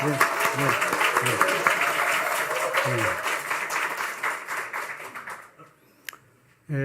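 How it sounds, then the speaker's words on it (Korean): A church congregation claps to welcome their senior pastor at a Sunday service, dense applause that holds steady and then thins out and fades near the end, with voices mixed in underneath. "한번 환영의 박수로 한번."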